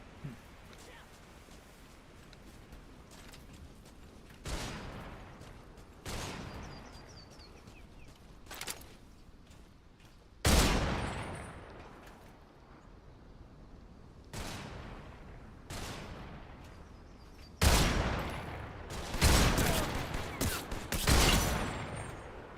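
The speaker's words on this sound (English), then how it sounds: "The enemy's fire." Enemy gunfire in Metal Gear Solid, scattered sharp shots and bursts arriving at irregular intervals, some loud and close, others fainter, with quiet gaps between.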